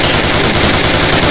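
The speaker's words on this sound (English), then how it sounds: "Fire 3 more rounds at your target." Rapid rifle gunfire in Call of Duty, a dense, loud continuous burst of shots with no pauses, filling the short stretch without any voices.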